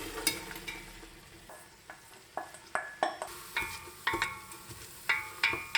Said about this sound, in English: Now the onions are turning into a golden brown color